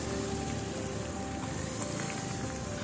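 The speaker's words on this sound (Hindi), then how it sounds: "यहाँ हमें सबसे ज़्यादा दिक्कत लगातार हो रही है बारिश के कारण।" Rain falls steadily on a narrow mountain road on the Hayuliang to Tezu highway, a constant, fairly faint hiss with a low background hum.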